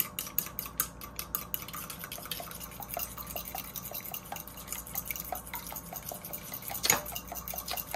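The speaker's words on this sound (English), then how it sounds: "we're gonna whisk this egg out" An egg whisked for corn bread batter, quick light clicking taps of a utensil against a bowl in an irregular rhythm, close and fairly quiet, with one louder clank near the end.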